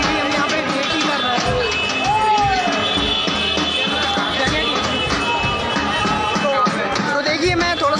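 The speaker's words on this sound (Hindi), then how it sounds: "यहाँ पे काफ़ी सारी भीड़ है" A dense crowd packs Dwarkadhish temple during Holi, a constant loud babble of many voices with shuffling and scattered shouts all around, while a nearby voice speaks over it.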